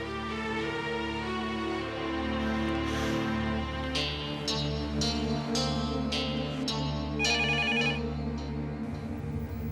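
A telephone rings indoors in a repeated, regular electronic ring pattern that carries on for several seconds against a steady background hum, with no one speaking.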